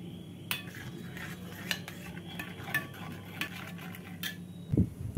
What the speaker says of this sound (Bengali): অল্প জল দিয়ে মশলাটাকে মিশিয়ে রাখবো